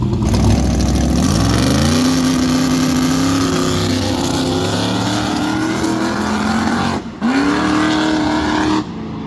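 A drag racing truck making a pass at 710 Dragway, with a fueling issue: a loud, sustained engine roar that climbs in pitch through the gears, with short dips at each shift, close and continuous.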